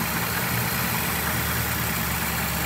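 An Austin-Healey BT7 with multiple carburetors idles close by, a loud, even, continuous engine drone with no voices over it.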